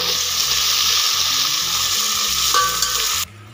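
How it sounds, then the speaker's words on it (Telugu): Ginger paste frying in oil with onions for bagara rice, a loud, dense, close hiss and sizzle with stirring that carries steadily, then cuts off abruptly near the end. "ఇందులోకి మనం అల్లం పేస్ట్ వేసుకొని కొంచెం ఆయిల్లో బాగా ఫ్రై అయ్యే వరకు ఉంచుకోవాలి"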